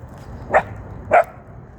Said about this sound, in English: Hello to the puppies